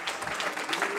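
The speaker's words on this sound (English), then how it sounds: "A little applause for Rick here." A small audience gives a short burst of clapping, a steady patter of hands lasting about a second at moderate loudness.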